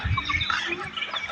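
Bantam chickens cluck and chatter in a short, busy burst close by, with soft scratchy background noise throughout.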